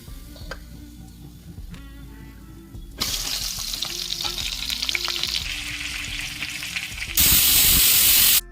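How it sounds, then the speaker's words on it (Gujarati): Stuffed brinjal and potato curry tempered and frying in a pan, a close sizzle with stirring clatter that swells into a loud hiss near the end, no voices. "તો હાલો શાકનો વઘાર કરી લો."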